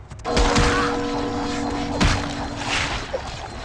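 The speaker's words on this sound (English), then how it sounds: "spamming the power of homing missiles" The homing missile power from Vampire the Masquerade Bloodlines fires in quick succession, a burst of sharp, loud blasts followed by a second hit and a fading, rumbling tail.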